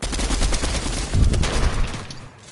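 Submachine gun fire in a shooter video game, a dense burst of rapid gunfire with a thumping low end, loud and continuous for about two seconds before tailing off.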